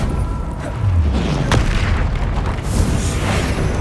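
Explosive spells such as Bombarda and Confringo go off in a Harry Potter-style video game, producing a loud, sustained rumbling boom with a sharp burst near the middle, all without talk.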